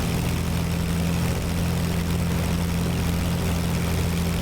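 Avro Lancaster piston engine running in Microsoft Flight Simulator 2024, a loud steady propeller drone with a low, continuous throb and no voices over it.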